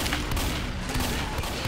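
Frag-round gunfire in Left 4 Dead 2, a short, loud burst of rapid shots and muffled blasts packed tightly together with no pauses.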